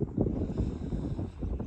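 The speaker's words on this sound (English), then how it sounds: "It's a little windy up here." Wind gusting across a microphone high up on a farm beside a storage structure about a third full of manure: a steady, close, low rumbling buffet with no talk.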